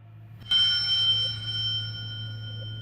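A small hand bell rung once by Hector Salamanca in Breaking Bad, a sharp single strike with a long, clear ringing decay over a low steady hum.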